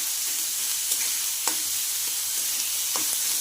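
Onions frying steadily in a pan for a bitter gourd curry, a continuous bright sizzle with a few soft stirring clicks and scrapes, close and alone.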